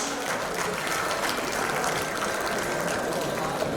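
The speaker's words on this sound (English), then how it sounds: "Big round of applause for him." Audience applause at a youth event for an arriving gazetted officer, a dense, steady wash of many hands clapping with no distinct individual claps, fairly even in loudness throughout.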